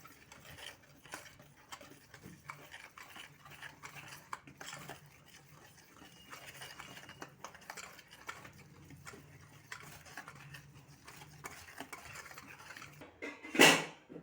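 Garlic paste mixed into a chicken marinade for KFC-style fried chicken, heard as quiet, irregular clinks and scrapes of a utensil in a bowl, ending in one louder clatter.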